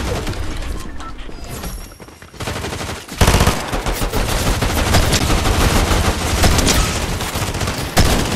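Automatic gunfire from an Enforcer AR in the video game Fortnite rattles through loud, dense bursts mixed with crashes and impacts.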